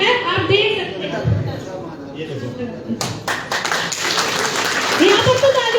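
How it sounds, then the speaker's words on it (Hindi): Several people clapping during a sanitary pad gel demonstration, uneven hand claps that grow denser partway through, mixed with voices talking over them. "यहाँ पर तो तालियां बनती है भाई"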